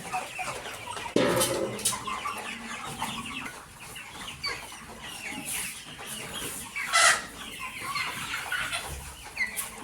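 Tiger chickens cluck and murmur steadily nearby, one of the flock sick with a cold, with a rooster crowing now and then among them.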